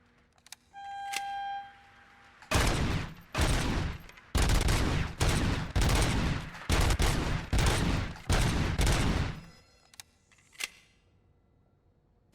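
Pistol shots ring out in the RoboCop Rogue City video game, about ten loud close reports fired in a rapid, slightly uneven string, followed by a couple of faint clicks and a lone quieter shot near the end.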